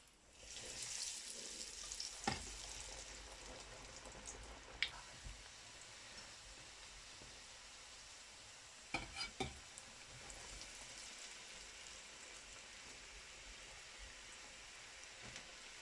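Fish balls for fish cutlets sizzle steadily in hot oil, a continuous broadband crackle with a few sharper pops and brief bursts of spattering, no voices.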